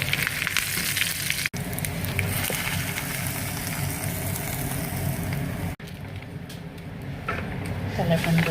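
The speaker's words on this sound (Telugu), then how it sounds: "తెల్లపిండి తాలింపు రెడీ అయిపోయిందండి" Tempering sizzles steadily in hot oil with curry leaves and dried chilies for a lentil and sesame-flour curry, a continuous close crackle with a couple of brief cuts.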